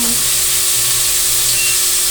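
Tilapia fries in a pan with a steady, loud sizzle and dense hiss of hot oil, crackling continuously throughout with no voices.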